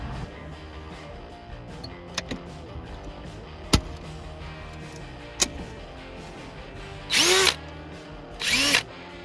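A power drill bores holes in a C5 Corvette dash with an eighth-inch bit: two short, loud whirring bursts near the end, following scattered clicks and taps from the work.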